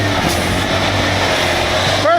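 Truck engine under full throttle, stranded on a snowy mountain road, a continuous loud roar with steady drone that holds throughout, with a brief higher whine near the end.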